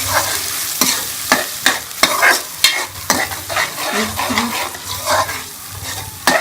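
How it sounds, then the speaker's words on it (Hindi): Ground onion paste frying in hot ghee with a steady sizzle, broken by repeated scraping strokes of a spoon stirring the pan, close up and with no talking. "प्याज को ग्राइंड कर लिया, इसके अंदर हम डाल देंगे वापस अपने घी के अंदर।"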